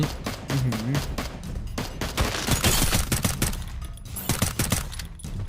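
XM8 rifle gunfire in the Free Fire battle-royale game: loud, rapid automatic bursts crackling almost nonstop, close and harsh, with brief gaps between volleys and faint game sounds underneath.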